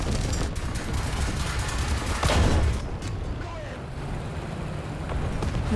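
Machine gun fire in the War Thunder tank battle game with the AC I Sentinel tank, a steady loud rattle of rapid shots under rumbling battle noise and a sharper burst midway.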